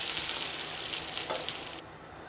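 Tempering spices sizzle in hot oil for a mint chutney, a bright, dense crackle that holds steady at close range and then cuts off sharply near the end.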